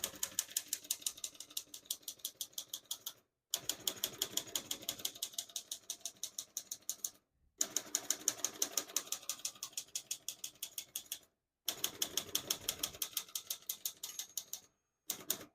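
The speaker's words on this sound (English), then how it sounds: "I was able to type all the keys on one line" Steady, rapid clacking of keys on a 1950 Olivetti Lettera 22 manual portable typewriter in four runs, each ending in a brief pause, crisp and close with no talking.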